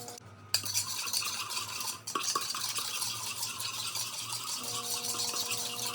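A bowl of recipe mixture, finished with a pinch of salt, is stirred steadily with soft scraping and light utensil clinks against the bowl. The sound is quiet and continuous, with no talking.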